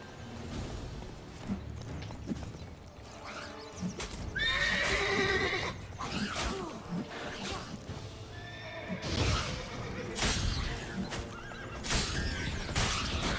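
Roach, the horse in the Witcher III video game, whinnying loudly while hooves clip-clop at a steady run, with several neighs rising over the galloping rhythm.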